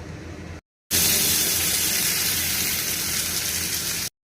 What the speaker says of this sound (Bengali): এবারে আমি এই কেটে রাখা সবজিগুলো তেলের মধ্যে দিয়ে দেব।